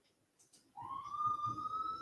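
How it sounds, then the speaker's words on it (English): A police siren wails in the background, rising in at once and then holding a steady, slowly climbing tone with clear harmonics, moderately loud over low rumbling noise. "You guys probably heard the sirens out the back here."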